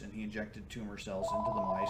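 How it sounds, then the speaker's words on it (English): A telephone rings with a warbling electronic tone rising in pitch partway through, heard softly behind a man lecturing to students in a classroom. "sorry about the phone ringing"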